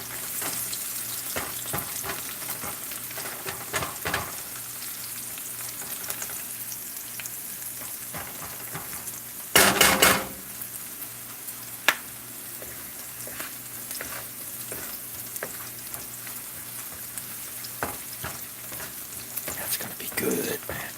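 Onions fry in a pan while squirrel is cooked, giving a steady close sizzle throughout with scattered stirring scrapes and clicks and a brief louder burst of crackle partway through.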